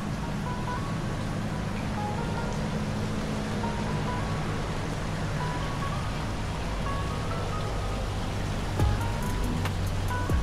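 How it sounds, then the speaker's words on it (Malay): Steady, close splashing of water from a small decorative fish fountain in a bungalow garden runs throughout, with a faint tune playing softly in the background. "ada air pancut mini dekor ikan. Bunyi air dan suasana hijau"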